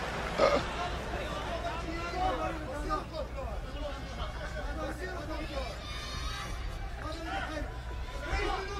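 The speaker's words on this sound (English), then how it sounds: "You can hear throughout the crowd shouts for Silva, shouts for Fujita" Fans at a mixed martial arts bout between Wanderlei Silva and Kazuyuki Fujita shout and chatter in a dense, steady arena crowd noise, heard from a distance beneath a commentator's voice.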